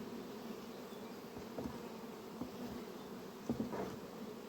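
Honey bees buzz around their hives before rain, a steady low insect drone with a few louder passes as bees fly close by. No one speaks.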